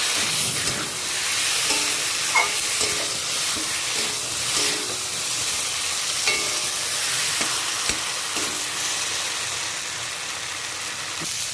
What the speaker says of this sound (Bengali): নেড়ে চেড়ে ভালো করে কষিয়ে নেব। যাতে পটলে আর আলুতে সমানভাবে নুন ঝাল মশলা ঢুকে যায়।